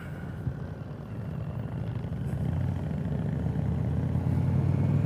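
A 2022 Indian Chieftain Limited motorcycle with its 116 Thunderstroke V-twin engine rumbles low and steady, rising gradually in loudness and pitch as it accelerates.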